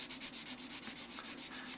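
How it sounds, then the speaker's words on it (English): Fine 600-grit sandpaper rubbed over a model figure makes a steady, quiet, rhythmic hiss, with about a dozen quick back-and-forth strokes in under two seconds, heard close up and alone. "And then I'll just go in with some finer grit sandpaper."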